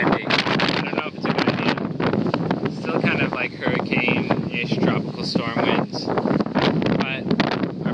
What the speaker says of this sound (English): So now we have very windy conditions where we can make a lot of power um, from a wind turbine